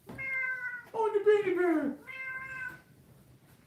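A pet cat meows close by in a run of drawn-out, tonal meows that rise and fall, with a person speaking briefly over it.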